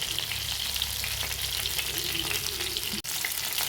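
Chicken fries in a pan with black pepper and a little masala, a continuous close sizzle with light stirring and a brief gap near the end.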